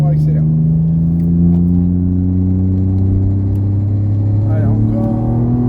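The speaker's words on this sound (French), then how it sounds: "Et là on débraque, on accélère." A race car accelerates on a track at Mireval, its engine droning steadily and rising gradually in pitch, loud and close throughout, with a voice speaking briefly over it.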